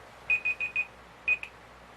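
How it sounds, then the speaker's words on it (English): A timer alarm beeps in a quiet room, sounding four quick bright beeps in a steady rhythm, then a pause and a fifth beep, fairly close and moderately loud with no talking. "that's my timer"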